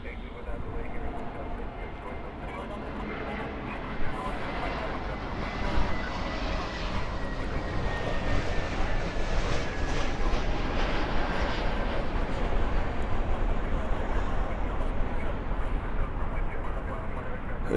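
Airplanes at Los Angeles International Airport produce a loud, continuous jet engine roar that swells and holds, with a person talking over it.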